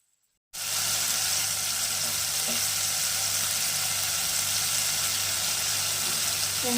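Onions and tomatoes sauté in a pan with salt and turmeric for a bottle gourd curry, a continuous close sizzle that starts abruptly after a brief silence and holds steady.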